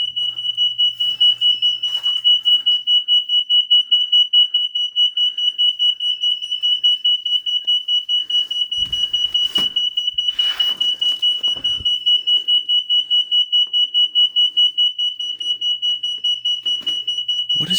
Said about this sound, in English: There's a bunch of alarms going off in here.